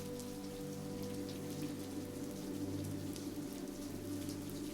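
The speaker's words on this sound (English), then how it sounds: "the rain continues to fall heavier by the hour" Heavy storm rain falls steadily on surfaces, a constant soft hiss and patter at low volume with no breaks or voices.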